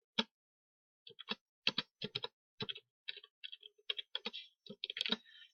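Someone types on a computer keyboard in short bursts of sharp, crisp clicks with brief pauses between them, close and fairly quiet against silence.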